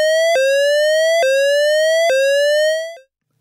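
ARP Odyssey synthesizer tone modulated by a ramp wave: a loud, bright buzzy note that slowly glides upward and then snaps back down, repeating about every second, four cycles before it fades out.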